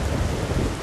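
Heavy rain driven by storm winds roars in a dense, continuous wash, with a deep thunder rumble underneath, all in one short burst.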